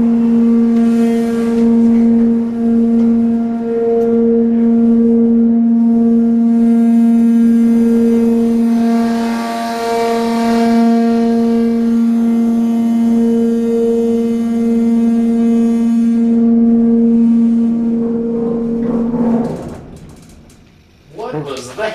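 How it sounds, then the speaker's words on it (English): A Westbrook freight elevator's hydraulic motor in Randolph Hall, Virginia, runs with a loud, steady droning hum for about nineteen seconds before winding down, followed by a brief rustle. "The best hydraulic motor you've ever heard in your life, right?"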